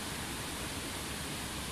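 A river rushing near a suspension bridge in a Yamanashi mountain gorge, a dense, steady roar that fills everything, loud and continuous without pause.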